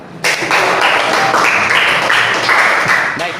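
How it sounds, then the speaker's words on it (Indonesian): Children in class clap together in a loud, dense burst that starts abruptly and continues steadily for about three seconds. "Tepuk tangan."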